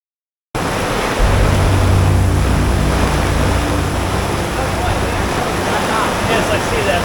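Rough, choppy sea and wind wash around a boat in a loud, dense roar that starts abruptly and holds steady, with a low engine-like drone underneath.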